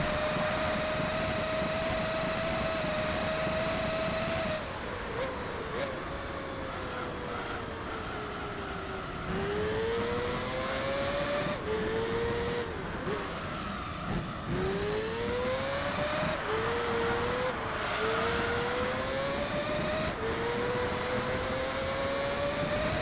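Race car engines in Gran Turismo 3 during a career-mode race, a loud continuous engine whine that climbs with acceleration and dips at repeated gear shifts and braking, with no talk.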